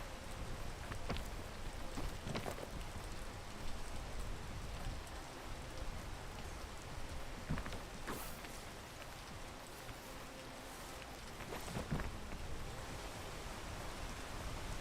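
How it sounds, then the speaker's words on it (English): Steady rain pours down in the video game Peak, a dense, even hiss of falling water with scattered louder drops and patters throughout, no voices over it. "it's still raining? Is that like monsoon season or some shit?"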